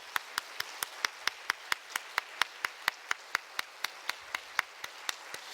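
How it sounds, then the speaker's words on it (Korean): A church congregation at a Wednesday evening service claps in steady unison: about four crisp, evenly spaced claps per second, soft and slightly distant, with no talking. "우리 격려의 박수 하겠습니다."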